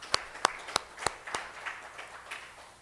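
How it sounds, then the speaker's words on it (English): Meeting attendees clap for the Secretariat staff at a board meeting of Pacific Island legislators, with a few sharp, distinct claps followed by softer scattered clapping that fades out. "let's give them all a round of applause"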